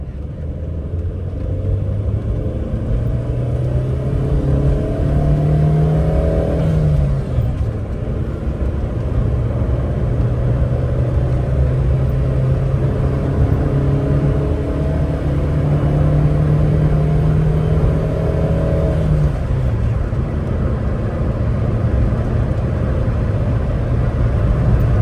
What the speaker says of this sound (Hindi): दूसरे गियर से उठाते हैं।